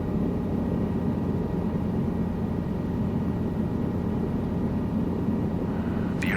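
Steady, loud helicopter rotor and engine drone from a training flight in Microsoft Flight Simulator 2024 on Xbox Series X, a continuous broadband roar over mountain scenery with no talk.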